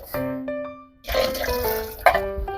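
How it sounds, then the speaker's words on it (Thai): Boiled pork and its broth poured into a pot of simmering curry-style soup for Chiang Mai khao soi, a splashing, gurgling pour that starts midway, preceded by faint tonal clinks, ending with a sharper splash. "ใส่หมูที่เราต้ม เอาไว้ใส่พร้อมน้ำค่ะใส่ลงไปได้เลย"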